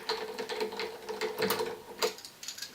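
A key turner loosens an acoustic guitar string on a Taylor 314ce with quiet, rapid ratcheting clicks and little scrapes in uneven bursts, close and soft, with no talking.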